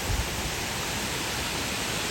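A waterfall in an outdoor nature setting gives a broad, steady rushing hiss of falling water from a distance, continuous and even throughout.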